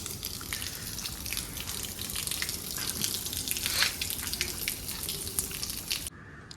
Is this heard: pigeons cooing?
no